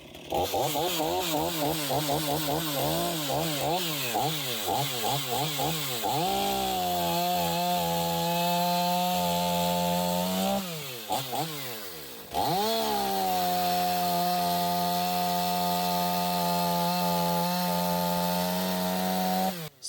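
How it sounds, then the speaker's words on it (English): A Stihl MS500i fuel-injected 80cc chainsaw with a 32-inch bar and full skip chain revs up and roars steadily as it cuts through a log, bogging down and rising in pitch with a brief drop to idle midway. "We're going to chop this log up using the Stihl 500i, fuel injected 80cc, 14-pound chainsaw"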